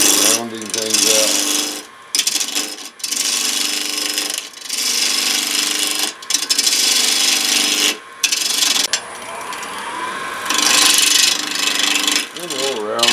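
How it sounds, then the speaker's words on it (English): A small bowl gouge cuts into a spinning wooden bowl blank on a lathe, giving loud rasping, scraping passes broken by short pauses and a high whine as the tool lifts off. "we'll grab our small bowl gouge and we'll start rounding things out"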